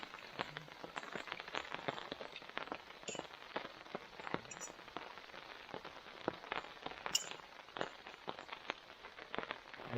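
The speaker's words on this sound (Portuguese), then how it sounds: "E a chuva aumentou." Steady rain patters down on a campsite with a wood campfire, a dense, continuous hiss of drops striking surfaces nearby, sharp individual splats and crackles scattered throughout at a constant loudness.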